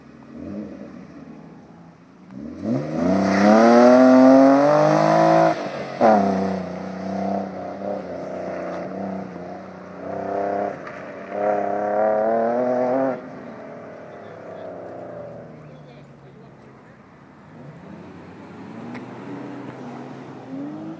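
A car doing wheelies and donuts at a racing event, its engine revving up and down with strong swooping harmonics over about ten seconds, then fading to a lower idle-like drone with distant crowd noise.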